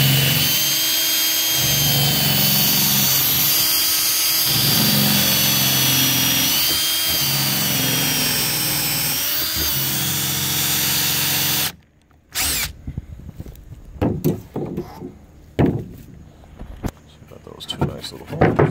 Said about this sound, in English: Do a nice countersink bore.